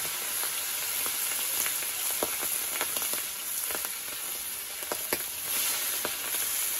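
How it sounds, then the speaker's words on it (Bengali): Boal fish frying in hot oil, a steady crackling sizzle with scattered sharp pops and spits throughout, close and fairly loud with no talk over it. "প্রথমে মাছটাকে ভাজা হচ্ছে।"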